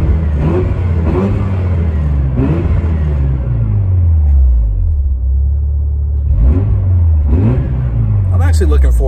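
Mazda RX-7 rotary engine revved to around 5,000 RPM in several rising and falling bursts, loud and close, with a speaking voice between revs.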